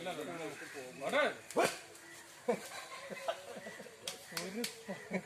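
Dogs trapped in a deep household well whine, yelp and whimper in repeated wavering cries, with short yips that echo from below, mixed with people talking nearby.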